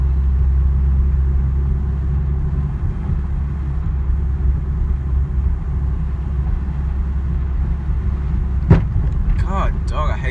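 Truck engine and exhaust rumbling without exhaust tips, a steady low idle drone with slight fluctuations, close and loud, with a brief sharp click near the end.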